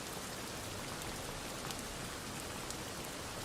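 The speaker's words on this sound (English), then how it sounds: "I just find like an 8-hour YouTube video of like rain ambience" Steady rain ambience, a continuous even hiss of falling rain with scattered drop patter, played as calming background for studying or coding; no voices.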